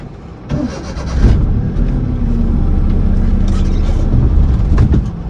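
A car being driven during a four-wheeler driving road test turns over and catches, then its engine runs loud and close with a steady low rumble and rising revs.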